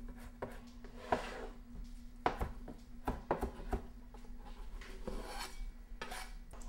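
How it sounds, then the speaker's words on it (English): A knife chops fresh mint into small pieces on a cutting board, giving quiet, irregular taps and light scraping strokes, close and soft, with no talking. "Grab a bunch of mint. Cut it in pretty small pieces."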